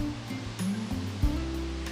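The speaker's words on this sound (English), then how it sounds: "this 200-foot cascade of water drops down a sharp cliff surrounded by rainforest vegetation" A 200-foot waterfall on Maui drops down a sharp cliff amid rainforest, a steady, full roar of falling water with constant broadband rushing and no pauses or voices.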